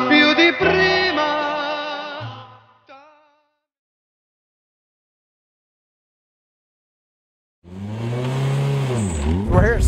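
A Dallara Formulito race car on the track at Sebring, Florida, its engine note rising and sweeping loudly near the end, after music fades out and a stretch of silence.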